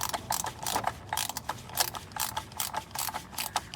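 A ratchet tightens a part with a fast run of dry metallic clicks, repeating evenly and close by throughout, with no talking.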